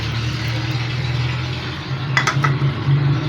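Spoon mixing coriander powder, tikka masala, lemon juice and yogurt into a marinade in a bowl: a few faint scraping clinks late on, over a steady low hum.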